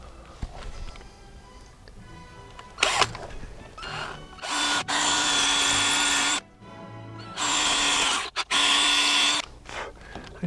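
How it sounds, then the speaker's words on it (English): A power drill pre-drills screw holes while installing the outdoor unit of a MrCool 24K BTU mini split, running in two long loud whining bursts with short pauses and a few brief clicks between. "I'll pre-drill for those."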